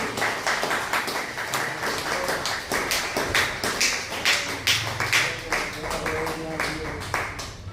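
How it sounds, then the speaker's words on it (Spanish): A church congregation claps during a Spanish-language sermon, with uneven, rhythmic hand claps and thumps close by, while voices carry on beneath the clapping. "Aplauda el nombre de Jesús."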